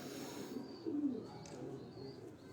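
Pigeons kept in racks give soft, low cooing, with one fuller coo about a second in, over a faint, steady room hum and quiet background sounds.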